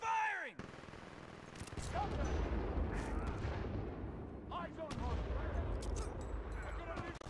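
Dense, sustained gunfire and explosions in the Titanfall video game, with heavy rumbling bursts and sharp cracks continuing throughout, preceded by a brief sweeping tone, with speech mixed in.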